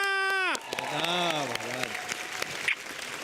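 A studio audience at a Hindi poetry show breaks into applause after a brief rising musical flourish, with clapping continuing under voices.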